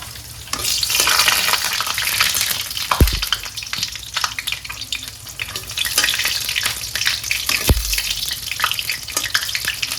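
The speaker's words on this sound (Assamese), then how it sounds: "অকণমান তেল দিছো আৰু এটা তেজপাত আৰু এয়া জলকীয়া মানে খাই ধুনীয়াকে ফ্ৰাই কৰিব লাগিব" Bay leaf and green chillies frying in a little oil in a pan for a pork recipe: continuous loud crackling sizzle with occasional stirring scrapes and a couple of low knocks, close up.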